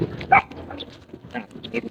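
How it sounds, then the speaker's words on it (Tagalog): A dog barks in short sharp yaps amid a busy outdoor mix of rustling and movement, fairly close by. "Narinig niyo kumakahol na si Pilay."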